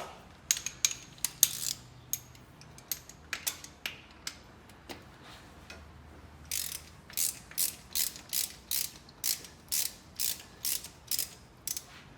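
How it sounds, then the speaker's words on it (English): A ratchet wrench clicks on a spark plug in the engine of a 1964 Chevy Nova: irregular close bursts of clicks, then a steady run of evenly spaced ratcheting strokes, with no talking. "I'm going to go ahead and pull one of the spark plugs out"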